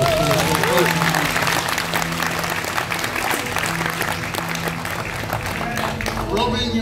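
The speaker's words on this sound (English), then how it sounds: "Please give them a nice big round of applause." Audience on a cruise ship applauding finalists of a singing competition, dense continuous clapping with some crowd noise over a low hum, steady and fairly loud throughout.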